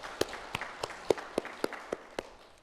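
Sparse, separate claps ring out in a church Sunday worship service, roughly eight distinct claps spaced about a third of a second apart, fairly quiet and with no voices over them.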